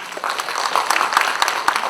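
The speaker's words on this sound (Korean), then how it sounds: "큰 박수로 맞이해 주십시오" An audience at an apartment reconstruction briefing applauds to welcome a property appraiser, a brief moderate round of scattered clapping with distinct individual claps standing out.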